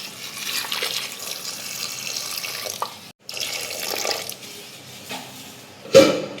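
Tap water running into a pressure cooker holding jackfruit seeds and turmeric powder, a steady close splashing stream with a brief break and a louder clatter near the end.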